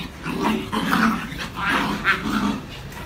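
Two three-month-old female Phu Quoc puppies squabble up close, trading bursts of growls, yips and whimpers in an uneven back-and-forth over about three seconds.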